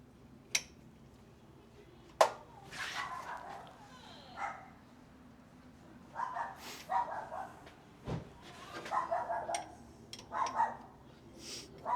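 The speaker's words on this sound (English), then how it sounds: "Apparently a puppy showed up." A puppy barking in short, scattered yips at close range in a garage where a 1967 Mustang's timing chain and cover are being installed, with a few sharp metallic ticks between the barks.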